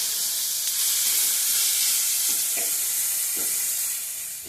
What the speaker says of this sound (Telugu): నెయ్యి ఒక 2-3 స్పూన్లు వేసుకుని అప్పుడు వీటెక్కిందండి. ఇప్పుడు క్యారెట్ తురుము వేసి కొంచెం వేపుకుందాం